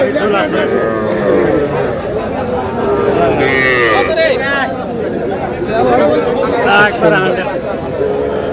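Young bull and heifer calves moo repeatedly at Aftabganj cattle market, loud and close, over constant chatter and bargaining voices of the crowd.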